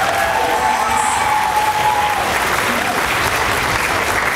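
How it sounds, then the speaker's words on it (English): A school assembly crowd at a student speech event gives a loud, dense round of applause, steady throughout, with faint cheering and a brief whistle-like tone near the start. "Round of applause for that."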